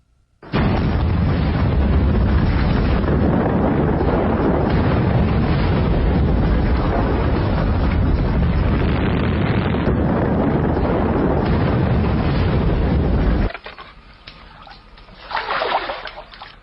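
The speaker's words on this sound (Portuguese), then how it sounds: "A erupção do Grande Toba na Sumatra há 74 mil anos foi a maior explosão ocorrida nos últimos 2 milhões de anos." The Toba supervolcano erupts on Sumatra in a sudden deep blast that becomes a sustained roaring rumble, loud and continuous for many seconds before cutting off into quieter noise.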